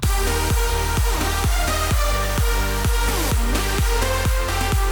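A loud electronic dance drop pounds along with a steady four-on-the-floor kick, thick synth chords and strings layered above it.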